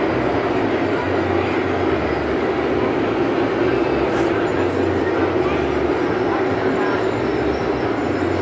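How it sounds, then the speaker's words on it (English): Steady rumbling and rolling hum of a train ride at an outdoor model train show, loud and continuous, with faint crowd chatter beneath. "Here's the train ride."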